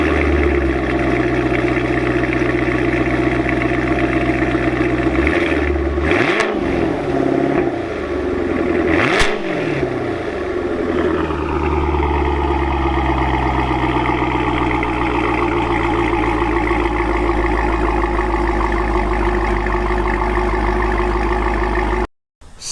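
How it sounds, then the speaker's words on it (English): A tuned car engine with a newly installed exhaust system starts and runs, with revving in the early seconds before it settles into a loud, steady, deep idle that cuts off abruptly near the end. "Go ahead and fire it up, John."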